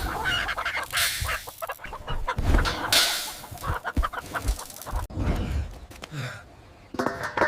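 Chickens clucking close by as they peck at a plate of cooked rice, with a run of irregular, overlapping clucks and squawks of varying loudness throughout.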